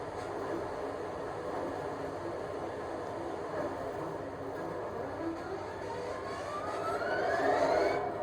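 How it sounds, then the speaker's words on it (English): A model OO gauge Class 66 diesel locomotive's sound-system engine starts up, rumbling steadily at low pitch, with a rising whine building toward the end as it revs up. "I'm going to start the engine up and go through the startup functions"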